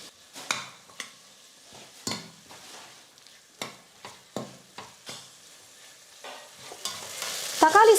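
Chopped medium tomatoes hit a hot pan and are sautéed for variety rice, with a soft steady sizzle under repeated scraping stirs of a spoon against the pan, growing busier and louder toward the end.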